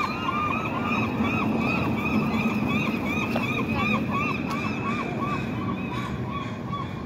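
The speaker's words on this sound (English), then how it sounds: "See those birds there?" Geese honk repeatedly in an urban spot, the calls fairly loud and steady over a constant background rumble of traffic or water, with no talking.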